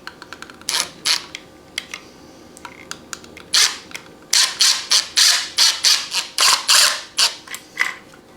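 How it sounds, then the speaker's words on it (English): A screw is driven into a plastic electrical box, cutting its own threads while fitting extra outlets. Short, sharp creaking clicks start sparse, then come in a quicker, louder run of bursts, close up and with no talk. "start slowly screwing in so you don't break anything"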